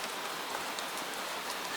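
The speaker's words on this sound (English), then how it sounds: "The rain slips from roof to roof and falls in soft streams." Gentle rain falls steadily in an even, soft hiss of many small drops on a surface, with no voices.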